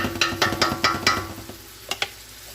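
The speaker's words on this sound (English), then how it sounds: "So all we want to do is just sear them, let them sit there for a minute" Smoked meat searing in a pot for yellow split pea chowder, with a run of rhythmic scraping stirs over a continuous frying sizzle, then two sharper knocks near the end, close and moderately loud.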